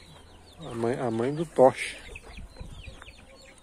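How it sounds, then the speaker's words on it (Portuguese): A quarrelsome hen lets out a drawn-out, wavering squawk followed by a shorter cluck, close and fairly loud, with a person speaking briefly and quiet farmyard sounds behind. "aquela galinha briguenta que eu tenho"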